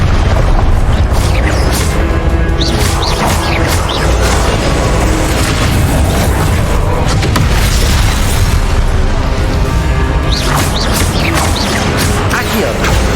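Confringo spell explosions in the Hogwarts Legacy video game, loud booming blasts over a dense, continuous roar of game sound effects with repeated impact bursts.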